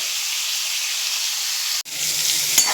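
Pointed gourd (potol) frying in the oil left over from frying fish, a steady close hiss and sizzle that runs unbroken, with a brief clatter near the end.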